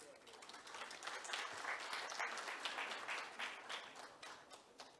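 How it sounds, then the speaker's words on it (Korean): Faint, distant audience applause rises and holds at a Hanyang Cyber University leaders' forum, a soft continuous patter of many hands clapping that thins slightly toward the end. "여러분, 큰 박수 보내주십시오."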